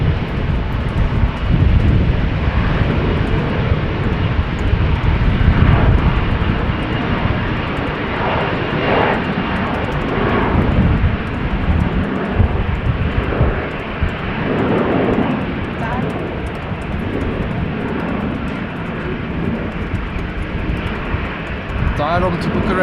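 A Tarom airliner bound for Bucharest roars steadily at Amsterdam Schiphol Airport on a wet, windy day, loud and sustained for over twenty seconds, with wind buffeting and voices talking over it.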